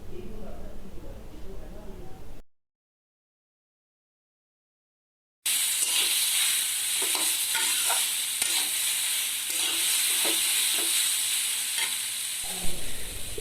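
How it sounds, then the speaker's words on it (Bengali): Young jackfruit pieces being fried with spices in a pan, a steady hiss of sizzling oil with stirring scrapes, after a brief stretch of quiet talk and a silent gap. "এঁচড়গুলো মশলার সঙ্গে ভালো করে ভেজে নিব।"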